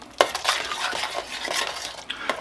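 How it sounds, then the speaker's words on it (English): Half and half being stirred into mashed potatoes: soft, close scraping and clinking of a utensil against a pot in an uneven rhythm, with a sharper knock near the start. "And stir this pretty good."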